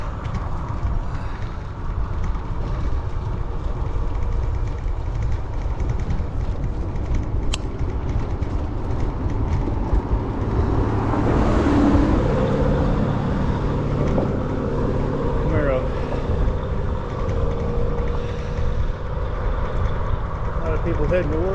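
A car approaches and passes a touring bicycle on a road on Whidbey Island, its engine and tire noise swelling then fading over steady wind rumble, with a person talking.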